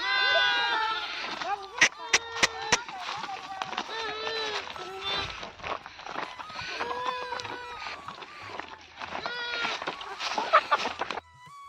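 Hens in baskets cluck and squawk in a busy jumble close by, with people talking over them and a few sharp knocks.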